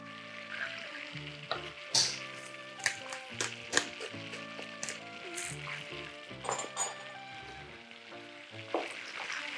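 Butter sizzles in a hot pan for a sage brown butter sauce, a continuous frying hiss broken by sharp, irregular crackles and spits, close and fairly loud.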